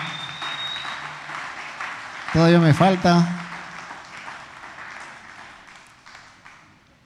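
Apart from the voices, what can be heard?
congregation applauding in church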